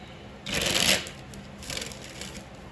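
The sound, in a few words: shuffling tarot cards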